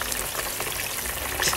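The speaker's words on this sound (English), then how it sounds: "the oil is actually very hot, and I want you guys to hear that sizzle" Loud, dense crackling sizzle of turkey wings frying in very hot oil, continuous and close, with no voices.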